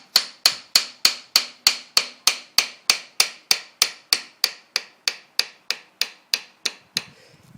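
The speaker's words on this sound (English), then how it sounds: "just get a little hammer, just on these bits here, just give it a little light tap" About twenty light, sharp metallic taps from a small hammer on the axle of a Can-Am DS450 quad, evenly spaced in a steady rhythm, close and clear with nothing else around them.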